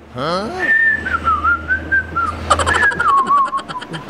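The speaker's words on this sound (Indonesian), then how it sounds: "Saya akan bersiul dulu" A person whistles a wavering, melodic tune up close, two long phrases with a short pause between them, over a low steady hum in a home kitchen where turmeric-tamarind drink is being made.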